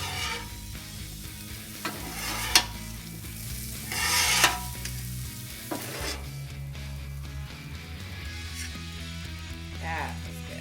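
Charred broccoli and cauliflower are stirred in a hot pan, giving a low sizzle under scraping and a few clinks of utensil on metal, close up, with occasional spoken remarks over it.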